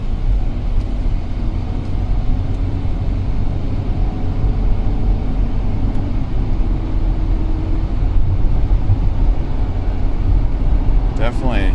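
A 2008 Cadillac SRX 3.6L AWD with a misfire drives down a street, a steady low engine and road drone heard from inside the vehicle.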